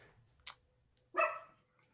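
A single pet dog barks once, fairly close and brief, in a quiet home after a faint click-like yip just before.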